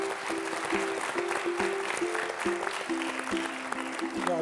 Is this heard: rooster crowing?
no